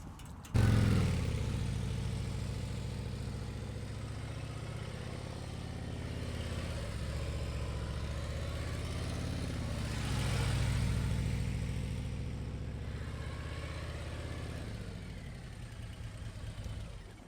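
A Harley-Davidson motorcycle engine rumbles at a low idle during a slow U-turn, swelling briefly as the throttle opens near the middle and then settling back, loud and close throughout with no talking.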